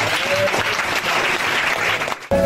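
Crowd at a religious gathering applauding and cheering the Lord, a loud, dense wash of clapping and shouts that drops briefly before surging again.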